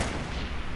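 A brief, dense burst of Fortnite gunfire with a booming, rumbling impact, close and loud for under a second.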